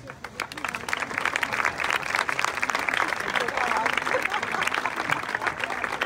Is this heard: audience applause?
yes